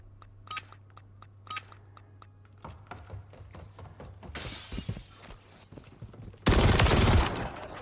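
Shotgun and other gunfire in Call of Duty: Modern Warfare III multiplayer, with scattered sharp shots and clinks building to a loud, dense burst of fire near the end.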